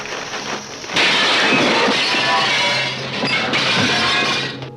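Glass shatters in a Superman radio-style drama: a sudden loud crash bursts in and spreads into a sustained, bright wash of breaking and tinkling debris that fills the rest of the moment, with no voices.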